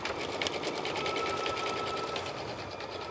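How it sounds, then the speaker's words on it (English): Close, steady whirring of a sewing machine stitching decorative embroidery, such as scallops, on the yoke of a classic Western shirt, running continuously at an even level with a rapid, regular needle rhythm. "we're going to let this just stitch a little bit"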